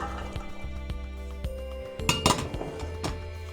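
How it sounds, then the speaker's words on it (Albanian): Ingredients for a chickpea stew are tipped into a cooking pot, giving a run of hard metallic clinks and knocks followed by a brief louder clatter near the end, recorded up close with no talking. "i hedh në tenxhere"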